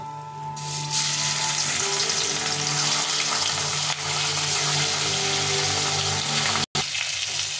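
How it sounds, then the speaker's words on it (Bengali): Rohu fish pieces frying in a pan of hot oil, a loud, even sizzle and spatter that swells after the first second and carries on steadily, broken by one brief dropout near the end; no talking. "এখন বাকি মাছগুলো ভেজে নেব।"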